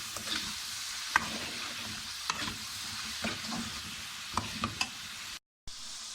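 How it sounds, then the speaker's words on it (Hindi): Peshawari mutton karahi fries with spices in a pan, giving a continuous crackling sizzle broken by occasional stirring clinks and scrapes. It is close and moderately loud, with no talking. "थोड़ी देर के लिए फ्राई कर लेंगे"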